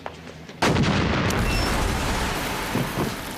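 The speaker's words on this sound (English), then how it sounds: "She even pulls a look over there so she can get away and, yes, cause an explosion." An explosion from the TV show Baywatch Nights bursts suddenly after a quiet moment, then roars on as a loud, sustained rumble that slowly fades.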